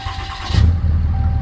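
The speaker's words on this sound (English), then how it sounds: "Start the truck, let it idle." A 2018 Ram 3500 diesel truck engine cranks and fires up, settling quickly into a loud, deep, rumbling idle close by.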